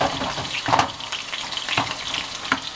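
Salmon, spinach and grated Parmesan stirred in a frying pan, with a continuous sizzle and a few louder scrapes and stirs in a steady rhythm.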